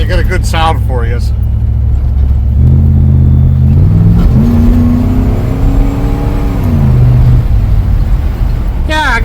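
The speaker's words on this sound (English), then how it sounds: "Alright, we're taking her for a ride. Let's see how she sounds." A 2001 Dodge Ram truck fitted with a cheap $50 exhaust drives off, its engine revving up and shifting through rising and falling tones, loud and close throughout, with a brief voice at the start.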